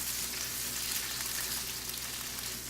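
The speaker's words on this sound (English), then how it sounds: "Now you hear the sizzling went down" Bok choy and mixed vegetables sizzle steadily in a metal wok over lowered gas, a continuous, even hiss of stir-frying heard up close with no talking.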